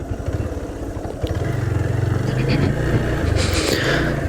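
A Hero Xpulse 200T motorcycle climbs an off-road trail, its engine a steady low rumble that picks up and holds strong after the first second, with clattery mechanical noise and wind over it and no talk.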